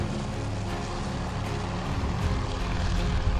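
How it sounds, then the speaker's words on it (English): A Marauder bomber droning through the sky in the naval strategy game Task Force Admiral, set around Midway: a steady, loud propeller-engine roar holding evenly throughout and swelling slightly toward the end. "Go, Marauder! Marauder Bomber! King of the sky!"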